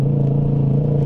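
A Yamaha MT-03 motorcycle with an open exhaust idles with a steady, deep, throbbing rumble, loud and close, continuous through the whole short moment.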